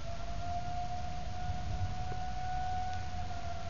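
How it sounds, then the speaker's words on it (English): Air raid sirens sound during a tornado warning in Roseland, with a steady, sustained wailing tone carrying from a distance over faint background noise. "the air raid sirens are going off"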